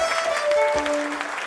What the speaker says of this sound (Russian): Олег Гавриленко, ваши аплодисменты.